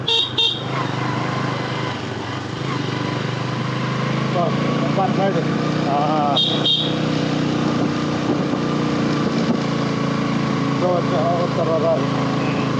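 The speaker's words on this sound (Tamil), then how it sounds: "டிராக்டர் வரும் டிராக்டர் எப்பயாச்சும் வரும்" A chugging tractor engine drones steadily as it passes close by on a mountain road between Chengam and Jamunamarathur, with a couple of short horn toots and people talking over it.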